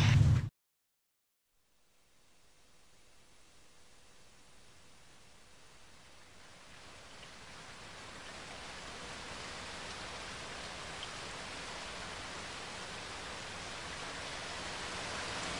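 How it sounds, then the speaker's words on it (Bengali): Heavy rain pours steadily outside, a dense, broad hiss that swells and grows louder after a brief silent gap, then holds a constant roar to the end. "বাইরে চলছে অঝরে বৃষ্টি"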